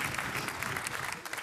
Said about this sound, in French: applaudissements mérités.